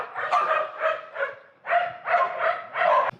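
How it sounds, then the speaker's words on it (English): Guard dogs watching over hens on a mountain farm bark repeatedly, a string of about seven sharp barks in two bursts, clear and fairly near with no talk. "guard dogs"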